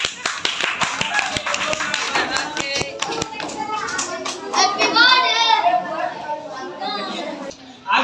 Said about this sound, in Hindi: अनंता के लिए जोरदार तालियां।